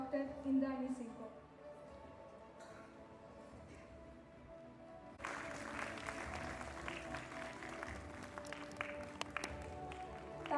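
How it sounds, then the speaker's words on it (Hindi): Applause breaks out at an awards ceremony after a dance performance, a sudden burst of many hands clapping midway that continues steadily, following a quieter stretch with a voice speaking over a hall. "तालियों की गूंज रुकनी नहीं चाहिए।"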